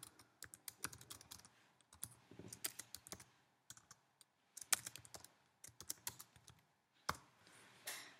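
Someone types on a computer keyboard, quick bursts of crisp key clicks separated by short pauses, close and fairly quiet with no talking.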